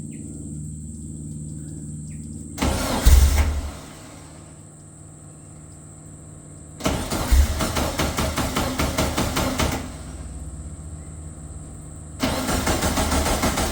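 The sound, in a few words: VW Beetle engine cranking, trying to start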